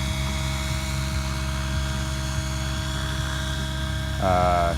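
The steady, droning whine of a radio-controlled model helicopter hovering nearby, continuous and even, with a rising, wavering tone near the end.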